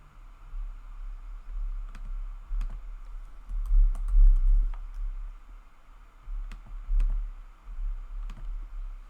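Fingers typing on a computer keyboard, soft scattered key clicks in uneven bursts over a low hum, close but quiet.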